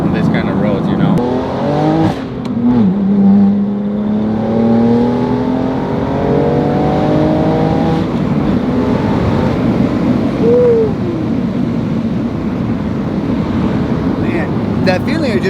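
A BMW F87 M2 Competition accelerates with a loud, rising engine drone and scattered sharp exhaust pops and crackles, while someone talks over the noise from inside the car.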